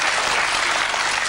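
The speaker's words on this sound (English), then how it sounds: "Usually gets a round of applause for some reason" Live television studio audience breaking into a round of applause, a dense, steady wash of clapping hands that fills the whole moment without any voices on top.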